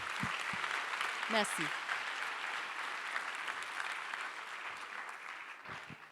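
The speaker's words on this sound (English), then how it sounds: "Maybe a round of applause for him." A packed auditorium audience at a Barcelona design school talk applauds steadily in a dense, even wash of clapping that lasts throughout, with a voice briefly speaking over it near the start.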